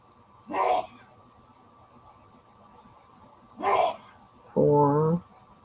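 Indoors, a man sneezes repeatedly from a short distance: three separate bursts spaced apart, the first two breathy and the last longer and more voiced, with near-silence in between.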